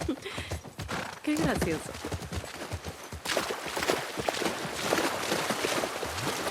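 Horse hooves clip-clop in The Last of Us Part II, a steady near rhythm of hoof strikes on the streets of Seattle, with a short spoken line over them and a snort or whinny.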